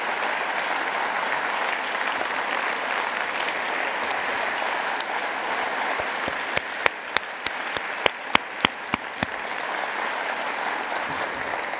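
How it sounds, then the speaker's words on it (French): Sustained applause from an audience at the inauguration of a Maison de la Culture, a broad steady crowd clap throughout, with a few sharp louder individual claps standing out near the end. "Je pense qu'il mérite à nouveau une salle d'applaudissements."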